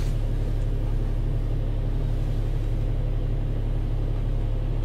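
A BMW X5 (E70) engine idling after a smart-key start, a steady low rumble with a constant hum, heard from close by and without voices.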